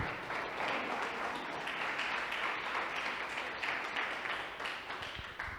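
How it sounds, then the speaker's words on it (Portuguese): A church congregation applauds during a service, with dense, steady clapping from many hands that fills the room for several seconds before tapering slightly. "dê um aplauso ao Senhor aí quando você se ajeitar"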